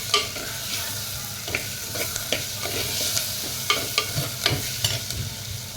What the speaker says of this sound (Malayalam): നമുക്ക് നന്നായി മിക്സ് ചെയ്ത് കൊടുക്കാം.